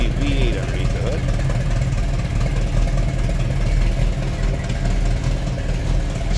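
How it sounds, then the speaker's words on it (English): A 1960 Chevrolet Corvette convertible with a 283 V8 idles steadily, a loud continuous low rumble that holds an even level throughout, with a brief voice near the start. "There you get an idea how it sounds. Again, 283 V8 underneath the hood."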